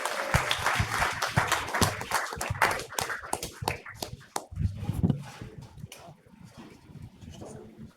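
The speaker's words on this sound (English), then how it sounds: "Everyone, round of applause for Jonathan." A round of applause from the audience at a startup demo night, scattered sharp claps that start loud and dense, then thin out and fade into sparse, uneven hand claps with some background murmur.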